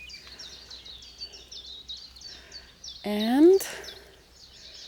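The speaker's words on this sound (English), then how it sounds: "I hope you can hear the birds going crazy" Small birds chirp and twitter in a mid-May Nordic permaculture food forest, quick high calls repeating throughout, with a brief spoken word cutting in near the end.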